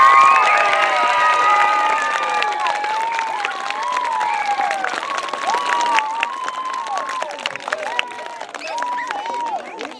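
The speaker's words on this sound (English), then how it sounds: "Let's give these guys a big round of applause." A school crowd at an elementary school ribbon-cutting applauding and cheering, steady clapping beneath loud children's shouts and whoops, fading slightly over ten seconds.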